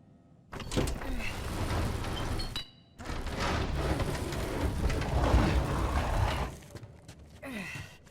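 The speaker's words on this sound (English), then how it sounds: "the sound of this moving shelf is also different" A heavy shelf in The Last of Us is dragged along the floor, giving two long, loud scraping pushes with a short pause between them. The scrape sounds rough and grinding, with a small creak near the end.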